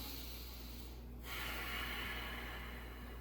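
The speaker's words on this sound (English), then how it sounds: "So continue focusing on that, the Ujjayi breath." A slow, hissing Ujjayi yoga breath, audible as a long, steady airy rush that shifts partway through from an inhale into an exhale, close and fairly quiet, with no talking.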